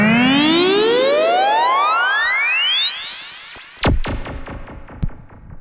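A modular synthesizer tone, generated without audio input, sweeps steadily upward in pitch with rich bright harmonics, then collapses into a sparse, buzzy electronic flutter and fades.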